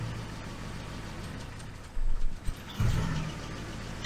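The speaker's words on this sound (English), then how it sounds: "it's all settled down, we're running at 800 RPM." A Triumph Stag engine with Stromberg CD 175 carburettors idles at about 800 RPM. It is a steady, fairly quiet low hum with a few brief louder surges near the end.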